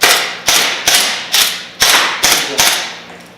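Airsoft gun bolt being released, seven sharp metallic snaps in quick irregular succession, each with a bright ringing decay, close and loud with no talk.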